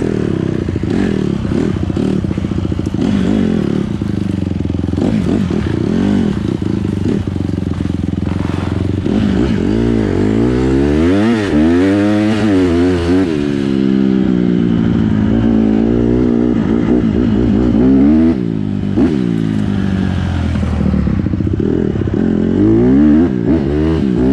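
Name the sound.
dirt bike engine revving while riding on trails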